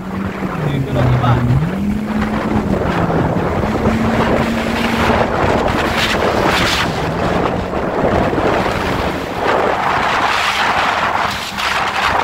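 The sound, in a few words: Yamaha FZS 1800 SHO jet ski engine with freeflow muffler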